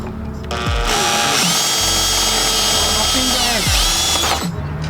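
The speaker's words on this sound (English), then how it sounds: "I'm gonna drill it right now." Power drill boring into the bumper of a Subaru STI during a lip install, a loud whining motor holding steady for several seconds after a brief start, then winding down and stopping.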